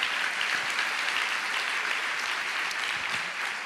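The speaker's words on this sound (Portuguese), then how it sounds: "Você pode aplaudir a Jesus por isso?" A church congregation applauds during a sermon, a steady wash of many hands clapping at moderate distance, fairly soft and even throughout with no talking over it.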